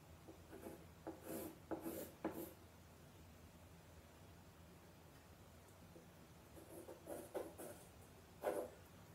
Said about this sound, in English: So darken these up a little bit